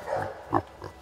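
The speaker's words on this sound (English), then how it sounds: "Here's a sweet little pig." A small, sweet pig grunts close by in short soft bursts, one sharper squeal-like grunt in the middle standing out against a low, steady background.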